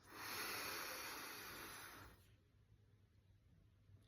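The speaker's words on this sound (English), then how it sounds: "And again, breathing in through the nose." A slow, steady inhale through the nose as a breathing exercise, a close airy hiss lasting about two seconds and then fading into near silence.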